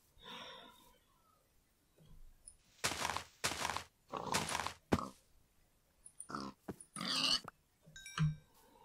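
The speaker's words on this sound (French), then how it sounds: "J'entends encore des cochons." Pigs in Minecraft grunt and snort in a series of short, irregular bursts separated by quiet gaps, fairly close and moderately loud.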